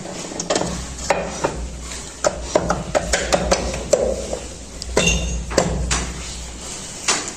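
Metal parts of a Bajaj Dominar 400 engine clink and tap as its chamber is assembled in a workshop, giving scattered close metallic knocks and pings over a low background hum.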